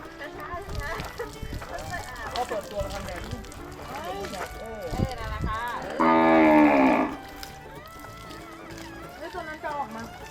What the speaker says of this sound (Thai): พาไปดู อาบน้ำวัว